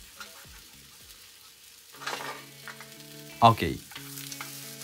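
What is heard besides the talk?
rolling egg omelette frying in a pan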